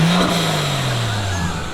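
A Volvo XC70 T6 engine fitted with an Elevate air intake revs loudly nearby, one strong rise followed by a falling tone as the revs drop back down.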